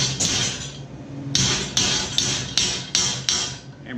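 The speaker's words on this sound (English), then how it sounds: "hammer these over just a bit." Thin metal flagpole bracket tabs being hammered over, about six sharp, evenly spaced strikes ringing out close by over faint background noise.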